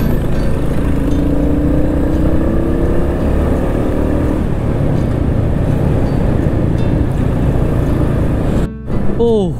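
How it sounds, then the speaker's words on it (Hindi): A Royal Enfield Meteor 350 Stellar motorcycle cruising on a highway, its steady engine drone mixed with heavy wind rush, loud and continuous, with a voice talking over it. "पिछले कुछ किलोमीटर से इस मोटरसाइकिल को हाईवे पर राइड कर रहा हूँ मैं"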